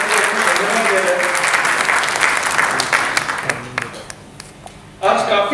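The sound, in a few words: audience applause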